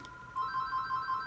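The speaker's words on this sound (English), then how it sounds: "I guess we'll just wait until it stops ringing" A telephone ringing nearby, a steady electronic trilling tone holding for a moment in a quiet room, moderately loud and alone without talk.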